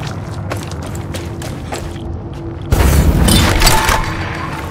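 Incendiary shells firing in Far Cry 6 erupt as a sudden loud burst of crackling, roaring flame and thuds partway through, after a stretch of quieter ambient clatter and faint tones.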